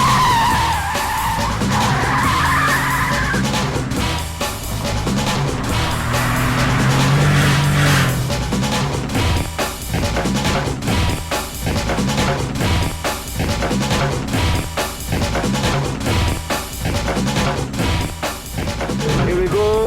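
Cars on the Firebird Raceway track in Phoenix, tyres squealing and skidding loudly with roaring engines for an extended stretch, close and continuous.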